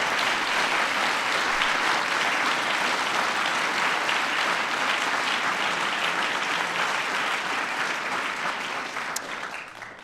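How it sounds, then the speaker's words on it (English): Applause at a White House ceremony for the National Medals of Science and Technology, a broad, sustained round of clapping from the audience that eases off slightly toward the end. "that's worthy of applause"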